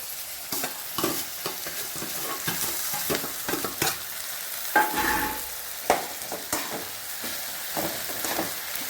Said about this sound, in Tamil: இப்போ இந்த தக்காளியை போட்டுக்கலாம்